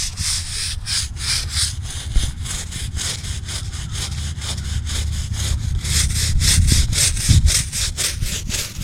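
Stiff brush scrubbing moss and grime off a granite gravestone, a steady rapid back-and-forth rasp repeating close up without pause, growing slightly louder toward the end.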